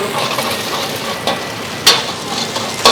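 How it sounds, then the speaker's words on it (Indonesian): Beef fried rice with curry spices stir-fried at a busy food stall, a steady dense sizzle broken by a few sharp scrapes and clanks of the spatula against the pan, fairly loud and close. "Goreng kari teman-teman."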